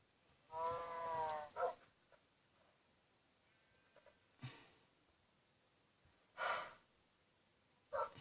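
Several short animal calls, cow-like moos and bleats from cows and sheep in Minecraft, come in separate bursts with pauses between them, fairly close and moderately loud.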